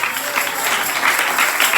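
A church congregation applauding during a pastor's sermon: steady, fairly loud clapping from many people, continuous and even across the moment with no speech over it.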